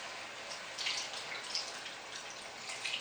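Canned coconut water being poured over pork in a pot, a soft, steady liquid trickle with faint splashes and drips, quiet and close, with no voices.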